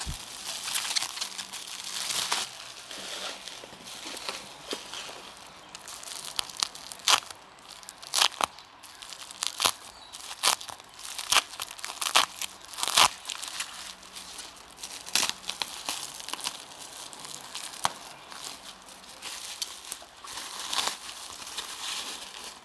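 Well-packed parcel box being unwrapped, with irregular crinkling, tearing and crunching of packing material in close, sharp bursts spread over about twenty seconds, no talking.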